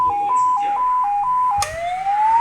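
A 200-watt siren sound box plays its second tone, a loud hi-lo two-note alternation repeating at an even pace. After a click it shifts into a slowly rising wail. The siren is close and has no voices over it.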